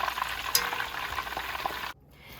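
Taco shells fry in a hot pan of oil, a steady broadband sizzle with a few sharp pops and crackles before the sound cuts off abruptly near the end.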